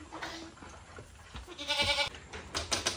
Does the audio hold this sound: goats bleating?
yes